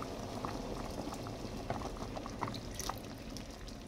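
Coconut cream poured into a pot of boiling ginataang mais with bilo bilo, a steady close bubbling simmer with faint liquid splashes running throughout, no talking.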